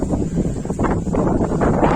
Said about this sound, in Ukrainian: Ну вже дуже сильний вітер,